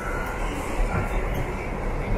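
A New York City subway train rumbles continuously from inside the car, a steady rolling roar with faint rail clatter and no talk.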